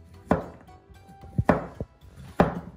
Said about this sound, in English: So the courgette, we need to cut it very, very thin slices like that.